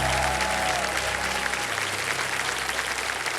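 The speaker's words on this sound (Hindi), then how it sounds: "जोरदार तालियां बज जाए" A studio audience on the KBC quiz show breaks into loud, dense applause that fills the whole moment, steady rapid clapping from a large crowd with a faint voice trailing in at the start.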